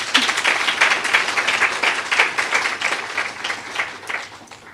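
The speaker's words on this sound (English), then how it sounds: "a round of applause for Steve" Audience applause at an awards event, a steady, moderately loud stretch of many hands clapping that carries evenly throughout, with faint crowd murmur underneath.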